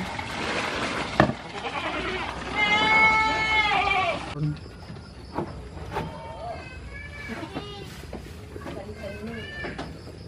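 Goats bleat repeatedly at close range as they are given freshly mixed feed, the calls rising and falling with rustling and handling noises in between.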